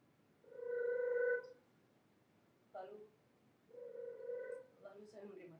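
Telephone ringing at home: two bursts of electronic ring tone, each about a second long and separated by a pause, fairly quiet against a hushed background with faint vocal sounds in between.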